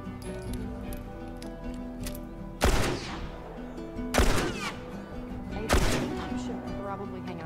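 Three sharp, loud gunshots ring out a second or so apart over a low ambient bed in The Last of Us on PS4, each with a short echoing tail.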